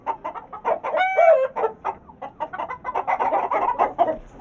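A rooster clucks and calls repeatedly at close range in a farmyard, with a brief rising crow-like squawk near the start and no talk.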